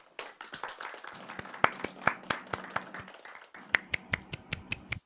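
Hands clap at a steady pace in a film, a series of sharp, close claps over a low background hum, with a short pause near the middle.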